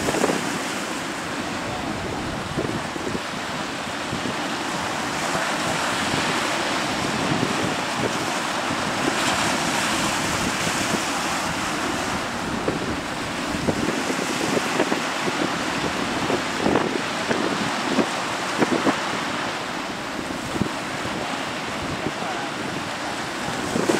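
Big sea waves and strong wind surround a fishing boat out at sea, a loud continuous roar of surf and buffeting wind with irregular heavier wave crashes and no talk.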